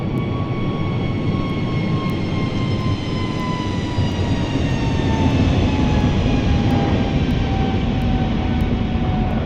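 Jet airliner engines roar steadily in Microsoft Flight Simulator during the climb after takeoff from Memphis, a loud continuous rumble with high whining tones that slowly drop in pitch, with no voices.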